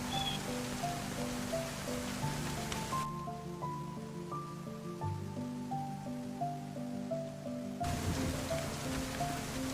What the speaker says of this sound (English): there's no sign of this rain letting up anytime soon